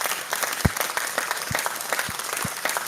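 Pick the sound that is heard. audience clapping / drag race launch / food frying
audience clapping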